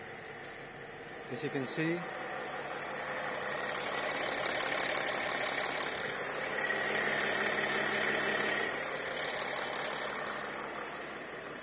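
A Mercedes-Benz GL320 engine cranks briefly and catches, then settles into a steady idle with a constant mechanical hum, while a person talks over it.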